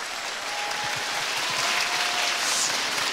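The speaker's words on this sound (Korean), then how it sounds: "박수를 보냅니다" Studio audience clapping on the Korean TV music show Immortal Songs 2, an even, fairly bright wash of many hands, steady and continuous throughout.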